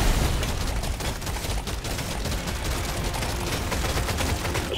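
Smart rifle gunfire in Deep Rock Galactic Survivor, a dense rapid stream of sharp shots running continuously at high volume without pause.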